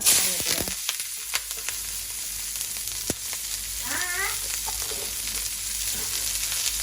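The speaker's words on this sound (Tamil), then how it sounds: "இது பருப்புக்கு வந்து தாளிப்போம் கடுகு வெங்காயம் பச்சை மிளகா" Mustard seeds, onion and green chili tempering in hot oil for dal, a broad steady sizzle with scattered pops and crackles near the start, a brief squeaky scrape partway through.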